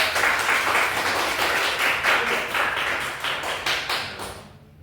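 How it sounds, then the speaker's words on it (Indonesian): Students in a classroom clap for a group after their algorithm presentation, a lively patter of hands with distinct individual claps that thins out and fades at the end. "tepuk tangan untuk kelompok Dharma dan Eko"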